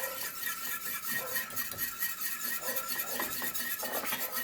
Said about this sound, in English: Okay, I'm going to whisk that in really well.